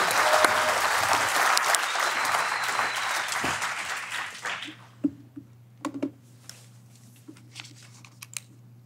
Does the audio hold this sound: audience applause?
yes